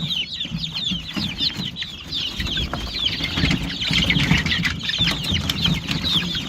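A full brooder of young chickens about three to four weeks old gives off constant overlapping cheeps, peeps and soft clucks, with occasional wing flutters. The sound is close and busy, with no talking.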